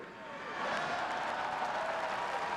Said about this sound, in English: I bet you never thought Hillary would get an applause at this convention.